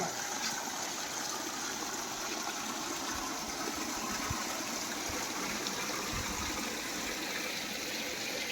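Water pouring steadily from the Bulbule spout, a continuous close rushing and splashing with a few low thumps, no talking.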